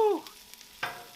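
Potatoes on a Blackstone griddle sizzle and scrape as they are flipped, with a brief clatter at the start and a fresh burst of sizzle near the end, fairly quiet and close.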